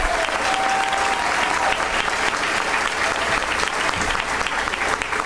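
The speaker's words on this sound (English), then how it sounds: "a big round of applause." An awards-ceremony audience gives a sustained round of applause, dense and even clapping filling the hall at a steady loud level, with a faint tone briefly audible early on.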